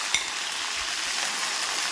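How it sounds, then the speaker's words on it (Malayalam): Sliced ginger sautéing in hot oil with whole fenugreek seeds, a steady close-up hiss of sizzling frying with one faint clink near the start, and no voices. "നമ്മളിതിലേക്ക് ആദ്യം ഇഞ്ചിയിട്ട് ഒന്ന് വഴറ്റും"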